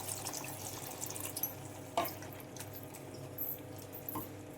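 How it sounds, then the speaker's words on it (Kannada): Water pours into a pot of simmering brinjal and capsicum gravy with a soft, faint splash and trickle, including one brief louder slosh. "ಇವಾಗ ನಾನು ಇದಕ್ಕೆ ನಾನು ಸ್ವಲ್ಪ ನೀರು ಹಾಕೋತಾ ಇದ್ದೀನಿ."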